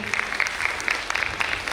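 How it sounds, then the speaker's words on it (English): Audience applause at a college hostel day celebration, a steady crowd of clapping hands heard at moderate distance throughout. "Let's give them a huge round of applause once again."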